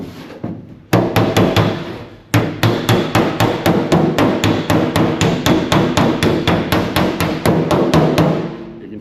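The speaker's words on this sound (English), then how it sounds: "I'm gonna do some hammering now." Loud metallic hammer blows on a metal car door strike in a fast, steady rhythm, dozens of ringing hits close by after a couple of isolated opening strikes.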